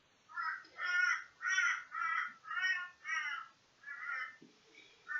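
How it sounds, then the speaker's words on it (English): A crow calls outdoors in a run of about seven loud, harsh caws in a steady rhythm, each call a layered rasp, followed by a short pause and a fainter caw at the end. "Mr. Crow's very noisy out there."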